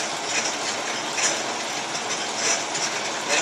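A metal lathe cuts threads while the cross slide is in use, giving a steady, close, bright hiss with a faint rhythmic clicking underneath. The sound runs evenly throughout with no talk.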